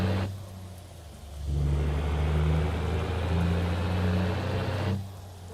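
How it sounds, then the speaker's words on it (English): A truck in a video game accelerates, its engine rising from a quieter idle into a loud, steady roar held for several seconds before dropping back down. "I like the way it sounds when it's accelerating for sure."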